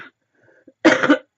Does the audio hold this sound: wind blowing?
no